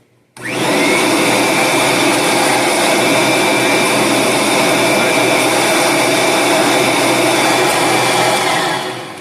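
Kirby vacuum cleaner switched on after a power switch replacement, roaring up abruptly and holding a loud, steady motor whine with a strong fan hum, close by, running alone until it winds down at the end.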